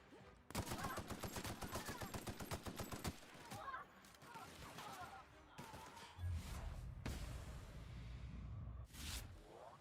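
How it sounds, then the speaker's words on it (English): Rapid automatic gunfire from The Outer Worlds crackles in a dense burst for a few seconds, followed by scattered shots, whooshes and heavy thuds of in-game combat. "What are they shooting at here?"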